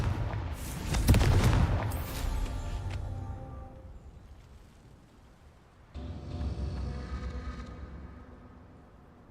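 Fiery blast spells going off in the video game Hogwarts Legacy: a loud burst of booming explosions up front that trails off, followed later by a second, quieter rumbling blast.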